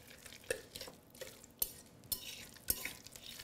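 Porridge oats being mixed into a minced chicken and coriander kebab mixture in a bowl, giving soft scraping and stirring sounds with a few sharper clinks of a spoon against the bowl, close and fairly quiet.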